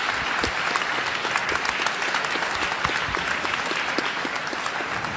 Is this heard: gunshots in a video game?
no